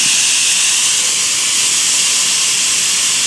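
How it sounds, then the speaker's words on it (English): A pressure cooker valve is opened by hand to release pressure while cooking pierogi, and steam rushes out as a loud, steady hiss that carries on without a break. "That means I'm just releasing the steam on my own"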